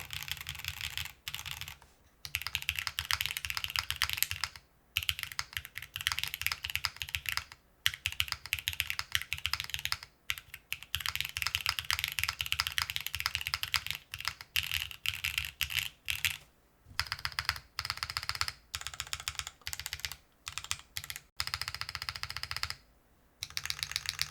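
Steady, fast typing on a newly built Enso-E mechanical keyboard with PBT keycaps, crisp close clacks in continuous bursts and a few short pauses, no talking.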